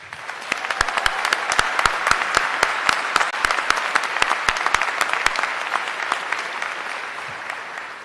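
Audience applause at a military health sciences university commencement ceremony, a dense and steady round of clapping from a large crowd with crisp individual claps punctuating it, sustained throughout before easing slightly at the end.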